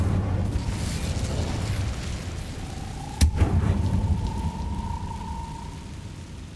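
Incendio fire spell cast in the Hogwarts Legacy video game, a single sharp burst midway followed by a steady whooshing flame over a continuous rumbling game background.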